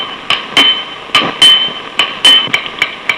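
A hammer strikes a horseshoe in an uneven series of sharp metallic blows, each with a short bright ring, loud and close, some hits heavier and others lighter taps.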